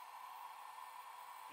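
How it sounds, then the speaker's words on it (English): A heat gun blows hot air onto the handle of an 1800s German-made antique cobbler hammer, a steady close whooshing hiss with a constant tone and no talking. "Heat gun."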